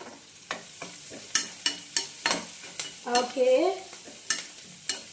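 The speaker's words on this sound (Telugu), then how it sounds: "సో ఉల్లిపాయలు చక్కగా ఫ్రై అయిపోతున్నాయి." Onions fry in a pan with spices while a utensil stirs them, producing a steady rhythm of close clicks and scrapes over a light sizzle, with a short spoken word partway through.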